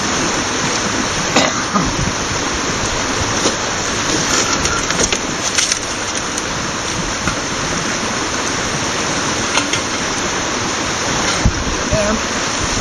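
Water washes through the sieves of a Greywolf mini recirculating highbanker, a steady, loud rushing and splashing flow with occasional clatters, continuous for the whole stretch.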